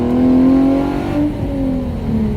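Hyundai Genesis Coupe engine pulling hard in first gear under full throttle, a loud, steady roar with rising harmonic tones that climb then level off, close and continuous with no talking.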